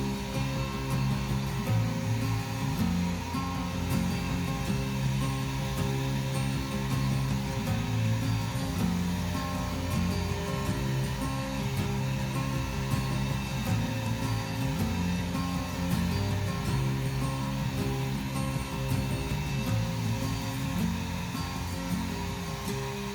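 A hair dryer blows acrylic paint into petal shapes for a fall-themed pour painting, a steady faint whooshing drone that runs unbroken throughout.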